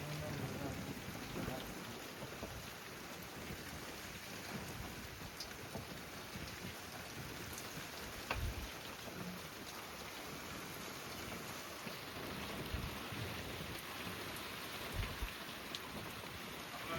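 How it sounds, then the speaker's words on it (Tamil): Heavy rain pours steadily near the sea shore, a dense unbroken hiss with occasional low rumbles and thumps, continuous throughout and fairly distant-sounding, with no clear talk. "ஏன்னா மழை சரியான மழை பெய்ய ஆரம்பிச்சிருச்சு"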